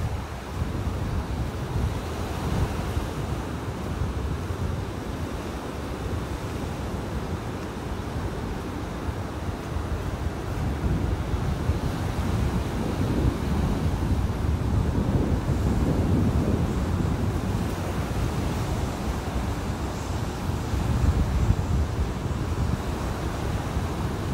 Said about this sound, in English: The wind is really strong.